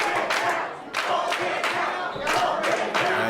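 Wrestling crowd at a Bulk Nasty vs Super Hentai match, a dense, loud roar of jeering voices rising and falling in repeated surges across the whole clip.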